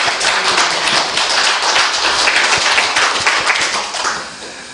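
Applause from a Korean church congregation during a Sunday service, a thick burst of many hands clapping together, loud at first and thinning slightly toward the end, with no talking.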